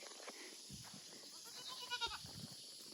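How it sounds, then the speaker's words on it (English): Goats roaming near a Florida vacation rental let out a few short, nasal bleats near the end, close by, over a quiet outdoor background. "These goats are crazy."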